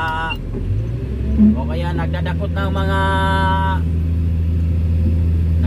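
A wheel loader's diesel engine runs steadily and rises as it revs while loading a truck, a sustained rumble with someone talking over it throughout.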